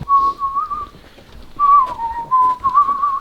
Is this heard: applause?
no